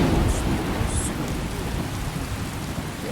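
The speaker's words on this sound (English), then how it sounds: "that thunder's quite loud" A thunderstorm in the video game Skyrim, heavy rain hissing constantly with deep rumbling thunder rolling underneath, loud and close, no talking over it.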